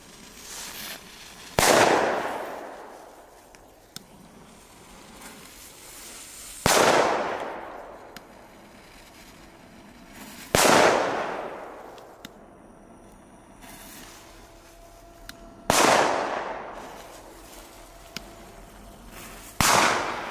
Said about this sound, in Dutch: Goeie knallers, man.